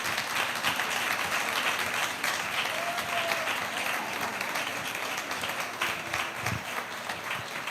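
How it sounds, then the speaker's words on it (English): Sustained applause from a large academic conference audience in a hall, dense and even clapping that fills the whole stretch at steady loudness, with a few faint voices beneath. "Let's keep clapping."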